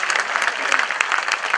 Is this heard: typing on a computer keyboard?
no